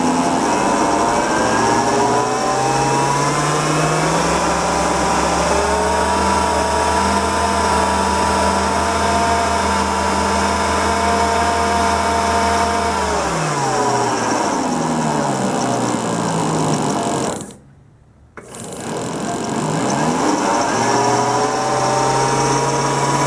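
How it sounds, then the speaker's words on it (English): A Mallory distributor for a Mopar 360 engine spins in a lathe at roughly 300 to 600 RPM, giving a loud, steady mechanical whir with a pitch that rises and falls, then cuts out briefly before spinning back up. "I got it in the lathe here running about 300 to be 600 RPM, and it's sparking good down there"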